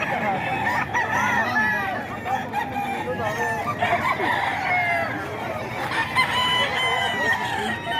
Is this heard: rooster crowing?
yes